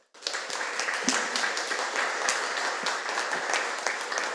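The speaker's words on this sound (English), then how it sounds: "I invite everyone to give Professor Wei thunderous applause." A lecture audience gives Professor Wei steady, moderately loud applause after a talk on democratic resilience, starting abruptly and continuing as an even clatter of many hands with no talk over it.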